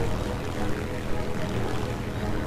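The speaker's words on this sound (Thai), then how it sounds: "เสียงเครื่องบินน่ารักจัง" A propeller airplane engine in War Thunder drones steadily, a low, continuous buzzing hum at moderate volume with no clear breaks.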